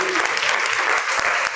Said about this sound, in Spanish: Le damos un aplauso a nuestro Dios